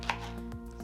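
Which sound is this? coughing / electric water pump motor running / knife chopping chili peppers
knife chopping chili peppers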